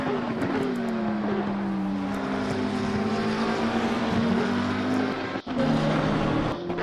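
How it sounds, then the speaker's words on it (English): Race cars roaring around the Misano track in a racing video game, Ferraris and McLarens among them: a steady, loud engine drone with rising and falling pitch, one brief dropout near the end, and no voices. "Sounds like an F1 race."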